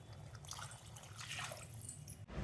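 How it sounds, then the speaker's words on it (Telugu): Two glasses of water pour steadily into a mutton pulao cooking pot for a couple of seconds with a faint liquid splash, ending abruptly with a soft clunk; no talking. "2 గ్లాసెస్ వాటర్ యాడ్ చేసుకుందాం"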